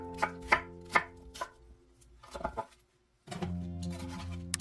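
A knife chops pear on a cutting board in a run of crisp, close knocks, then pauses and goes on with a denser burst of cutting strokes.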